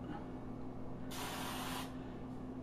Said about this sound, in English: lightly spray the inside of it.